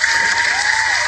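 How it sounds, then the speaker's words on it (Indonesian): Audience applause at a basketball league talk show, a dense steady wash of many hands clapping throughout, loud and continuous with no talk. "tepuk tangan lagi, katanya ada yang request tepuk tangan"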